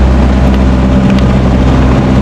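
Boat engine running steadily, a loud, continuous low drone with a rough broadband rumble and no pauses.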